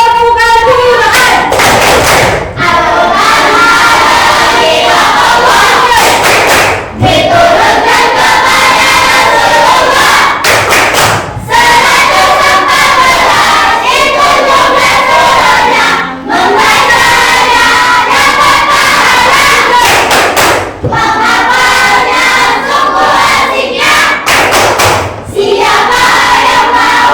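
A class of children loudly performing the 'tepuk aturan' clapping chant in a classroom, shouting together with rhythmic claps, sustained and energetic with brief pauses between phrases.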